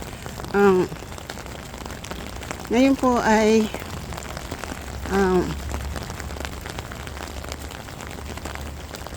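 Heavy rain drums steadily on a bus during the ride home, a dense constant wash of sound under occasional voices and a few brief louder tonal bursts.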